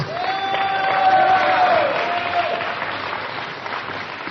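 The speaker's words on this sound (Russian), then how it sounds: "Да, можно хлопать, можно аплодировать Иисуса," A church congregation applauds together, a dense, steady wash of clapping that fills the room and stays fairly loud throughout, with a sustained tone running underneath for the first half.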